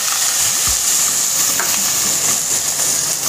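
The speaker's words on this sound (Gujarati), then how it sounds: "હવે એની અંદર નાખશું આપણે નાખશું ડુંગળી" Chopped onion dropped into hot oil already holding popped mustard seeds and asafoetida, sizzling loudly and steadily up close while being stirred, for a Maggi noodle dish.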